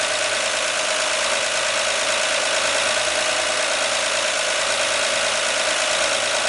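A 1959 Ford Mister Softee ice cream truck engine idles loudly and up close, a steady, unbroken mechanical drone with a faint rhythmic clatter and no voices.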